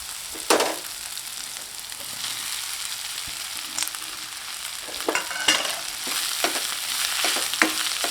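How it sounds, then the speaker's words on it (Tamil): Red flattened rice with vegetables stirred over a medium flame, the pan frying with a gentle hiss while a spoon scrapes and taps the pan in irregular strokes, quiet and close with no talking. "அவள் சேர்த்து நல்லா கலந்து விட்டுக்கலாங்க மீடியம் ஃப்ளேமில் நல்லா கலந்து விட்டுக்கலாம்"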